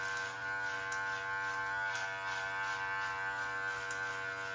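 An electric beard trimmer fitted with a 1.9 millimeter blade guard runs close by with a steady, even electric buzz, its pitch shifting slightly as it rides up through the beard, without speech.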